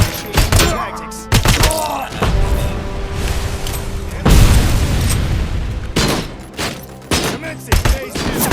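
A grenade blast in RoboCop: Rogue City, with loud booming explosions and heavy gunfire thundering in repeated bursts across the whole stretch, no one talking.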